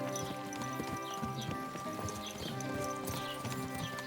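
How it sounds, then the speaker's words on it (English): Horse hooves clip-clop at a steady walking rhythm on ground in the medieval game Kingdom Come: Deliverance II, close by, layered over a busy town ambience with a brief whinny. "Watch out with that horse!"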